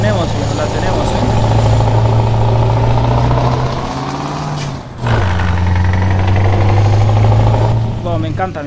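A Scania R520 V8 truck engine in Euro Truck Simulator 2 drones with a deep, steady rumble, briefly dipping before pulling again, while someone talks over it throughout.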